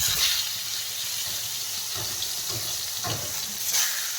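Round eggplant slices frying in mustard oil, a continuous close sizzle with a few soft bumps as pieces shift in the pan.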